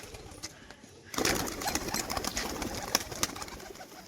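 After a quiet second, a male pigeon coos repeatedly up close, soft throaty calls with a few sharp flutters and clicks mixed in.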